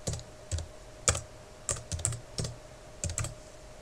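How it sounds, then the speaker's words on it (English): Keys tapped on a computer keyboard in a quiet room, a handful of short clustered clicks at an uneven pace, close and crisp over a faint steady hum. "So if we press return where there's the flashing cursor and type in treat and return"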